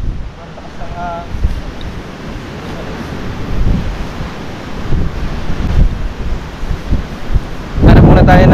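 Very strong typhoon wind roars by the sea at Pagudpud, buffeting the microphone in continuous loud gusts with surf beneath, swelling to a harsh blast at the end.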